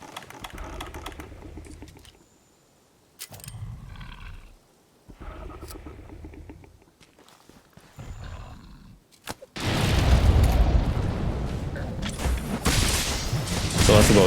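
Mega Barrel Bombs exploding against a Furious Rajang in Monster Hunter World Iceborne: after scattered thumps and clatter, a loud, heavy blast erupts and rolls into a sustained roaring rumble.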